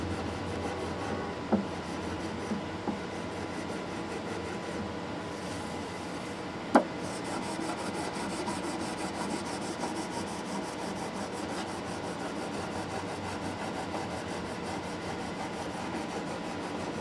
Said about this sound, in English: Now I'm going to use a 600 grit fret eraser just to take some of the crap off the frets.